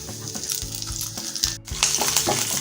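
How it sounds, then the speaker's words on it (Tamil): Peanuts, cashews and curry leaves fry in sesame oil with a bright, crackling sizzle, close and loud, broken by a few spatula scrapes and knocks; no voices. "இப்போ இதில் வேர்க்கடலை, முந்திரி, கருவேப்பிலை வறுத்து நம்ம எடுத்து வச்சுக்க போகிறோம்."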